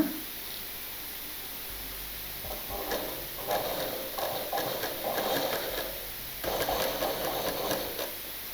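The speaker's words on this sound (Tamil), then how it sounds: "அப்படியே அந்த பள்ளத்துலேயே தையல் போட்டுவாங்க." A sewing machine runs in short stitching bursts while sewing a dart on a three-dart cut blouse, a steady mechanical whir that starts and stops with brief pauses, close and moderately loud.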